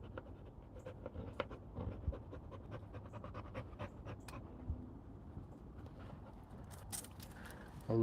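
Several dogs pant steadily and close by in a quiet space at night, soft rhythmic breaths repeating with no talk over them.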